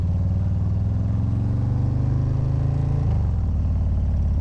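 A Harley-Davidson Low Rider ST motorcycle with a 131 engine running, a loud close pulsing low rumble that rises slightly in pitch before dropping back near the end.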